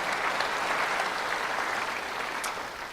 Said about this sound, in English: So give Lisa a nice round of applause